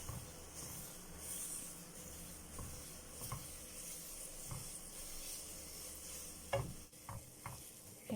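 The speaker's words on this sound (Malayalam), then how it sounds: "പാനിൽ തന്നെ വെച്ച് നമുക്ക് ജസ്റ്റ് ഒന്ന് ഇളക്കി കൊടുക്കാം" Apple peda mixture stirred in a pan with the flame off, soft scraping strokes over a low hiss, quiet and close, with a few sharper clinks near the end.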